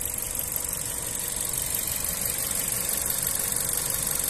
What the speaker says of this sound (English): engine sound very nice and smooth, recently serviced.